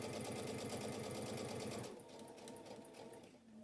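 A sewing machine stitches a seam on medical scrubs, running steadily and loud with a fast rhythmic whir, then easing to a lighter, slower stitch partway through.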